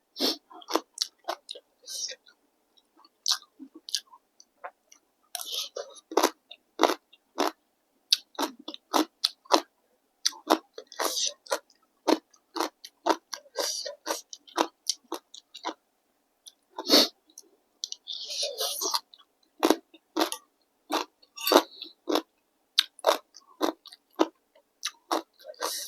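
Close, crisp chewing and biting while eating Thai papaya salad with peanuts and grilled chicken, irregular crunchy bites and mouth sounds with short silent pauses between them.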